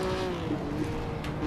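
A 1957 Formula One race car at the Nürburgring in a historic racing game, its engine holding a steady, loud, close drone throughout a short stretch with no break.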